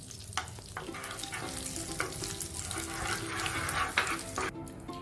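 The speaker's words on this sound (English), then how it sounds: "we'll add butter to it and we'll stir it properly" Butter being stirred into melted sugar in a pan for butterscotch sauce: a bubbling sizzle with repeated scraping and clinking of a utensil against the pan, steady and close throughout.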